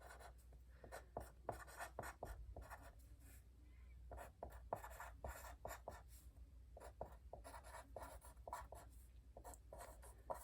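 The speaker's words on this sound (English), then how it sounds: "we're going to write all these terms down below the chart" A pen writes math terms by hand, giving a quiet, close run of irregular scratchy strokes and taps that continues throughout with no talking.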